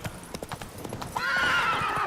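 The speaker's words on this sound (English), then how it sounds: "Qué fastidio este caballo" Horse hooves clip-clop in a quick galloping rhythm in The Witcher 3 video game, close and clear, followed by a loud neigh and whinny near the end.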